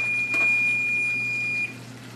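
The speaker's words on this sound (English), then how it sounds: "Timer has ended." A single steady electronic kitchen-timer beep holds one high tone for about a second and a half at moderate volume, then cuts off, with faint room hum underneath and no talking.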